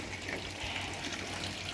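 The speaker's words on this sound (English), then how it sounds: "the water's just starting to come out there now" Water trickles and gushes steadily from the outlet pipe of an aquaponics bell siphon, a soft, continuous splashing flow heard close but faint.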